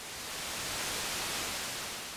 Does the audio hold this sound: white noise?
yes